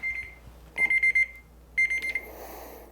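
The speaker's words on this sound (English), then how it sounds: "That was my alarm saying the world's going to end." An alarm goes off in bursts of bright, rapid electronic beeping, two clusters of loud tones close by, with no talking over them.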